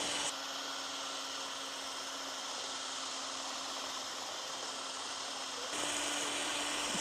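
Ryobi patio cleaner running steadily, a loud continuous motor whine with a brush whirring on paving, holding constant before a slight shift in tone near the end.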